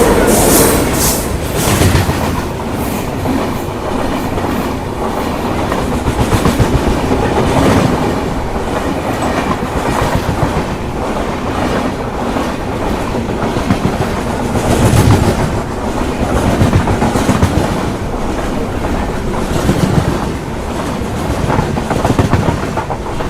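A MEMU passenger train runs from Chittoor toward Tirupati, with a steady loud rumble and rhythmic clickety-clack of wheels over rail joints filling the whole stretch, close and continuous, with no talk.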